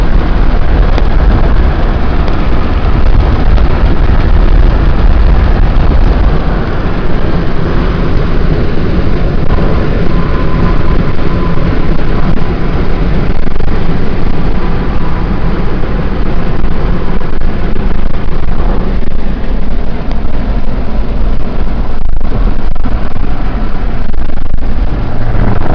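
A car drives along a road in North Dakota, heard from inside as a loud, continuous rumble of engine and tyre noise mixed with buffeting wind, steady throughout with no talking.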